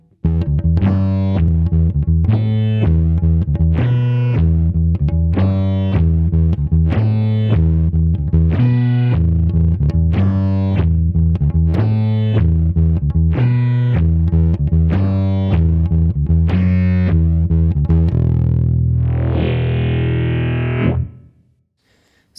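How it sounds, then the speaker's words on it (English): A bass guitar played through a Soundblox Pro Multiwave bass distortion pedal plays a loud, evenly paced run of gritty, fuzzy notes, then ends on a sustained distorted note that cuts off abruptly. "That is the Soundblox Pro Multiwave Bass Distortion."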